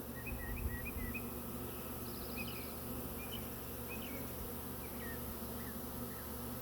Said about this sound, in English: All these are ready to swarm, loaded with bees.